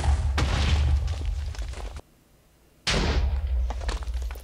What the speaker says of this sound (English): I put in a handful of TNT because I don't want it to explode my build right next to it.